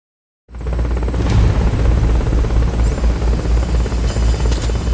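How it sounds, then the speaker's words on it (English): A helicopter's deep rotor chop from the video game Metal Gear Solid Peace Walker cuts in after a moment of silence and drones on loud and near, with a brief high electronic chirp briefly layered over it. "Forget about the chopper for now."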